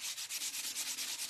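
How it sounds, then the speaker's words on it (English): A plastic grocery bag rubbed lightly back and forth over a satin-painted wooden tiered tray, giving a close, steady hissy scuffing in even strokes, about ten passes, with no voices. "I'm just lightly rubbing back and forth. So again, this is not sanding paper. This is a grocery bag."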